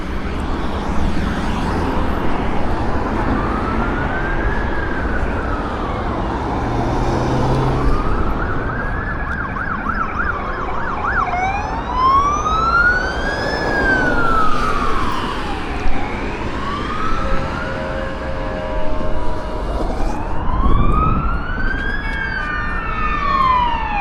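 Wailing police and ambulance sirens in a Polish city rise and fall continuously over steady traffic noise, several overlapping and growing louder as vehicles pass nearby.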